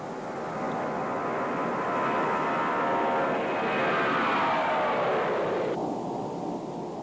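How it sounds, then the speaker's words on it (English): A Lockheed L-1011 TriStar jet airliner roars past in flight, its loud broad engine noise swelling with a falling sweep as it passes, then cutting off abruptly near the end. "The first TriStar for Courtline, dubbed Halcyon Days, took to the air for the very first time"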